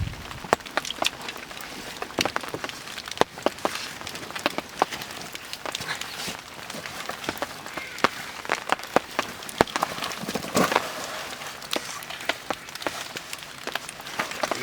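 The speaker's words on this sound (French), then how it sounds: "il pleut" Steady rain pattering on surfaces beside water outdoors, a dense close patter of countless drops with scattered sharper taps, continuous and fairly even throughout with no talking.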